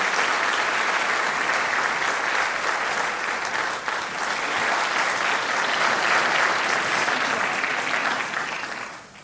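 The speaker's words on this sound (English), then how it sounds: "Let's give them all a round of applause for their support." A chamber of commerce annual meeting audience applauds, a loud, dense, sustained wash of many hands clapping throughout, tapering off at the very end.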